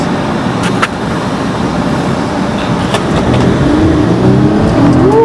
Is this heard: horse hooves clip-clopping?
no